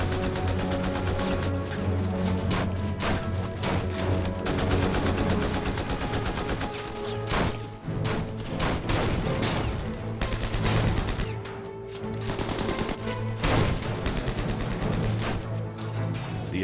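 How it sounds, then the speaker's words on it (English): Machine gun fire and answering fire from a tank during a battle at a castle, dense overlapping bursts and rapid reports crackling continuously at fairly close range, mixed with explosive crashes. "As a machine gun from a nearby ridge targets the castle, the crew member stationed in Lee's tank, the Besotten Jenny, returns fire."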